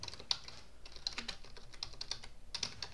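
Someone types on a computer keyboard, close by, in quick, irregular bursts of crisp key clicks with short pauses between runs, no voices over it.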